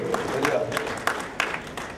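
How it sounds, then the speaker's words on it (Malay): Audience applause for Datuk Nur Azman Idris at a youth awareness programme, a soft, steady patter of many hands clapping with a few sharper claps, heard at a distance and fairly faint. "Satu tepukan untuk Datuk Nur Azman Idris"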